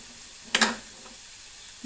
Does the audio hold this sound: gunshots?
no